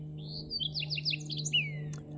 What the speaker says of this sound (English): So does that bird.